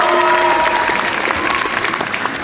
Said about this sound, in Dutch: Applaus voor onze charmante kandidaat